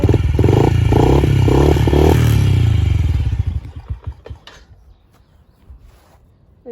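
A dirt bike engine cranks with several rhythmic bursts, then catches and runs loudly for a moment before sputtering down into uneven, fading pops and near silence.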